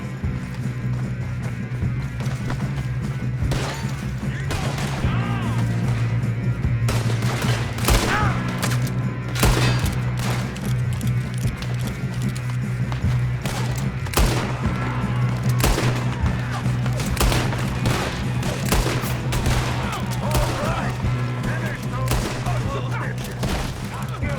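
Gunfire rings out in a Red Dead Redemption 2 shootout, with repeated sharp shots and volleys cracking irregularly over a steady low drone and background game ambience.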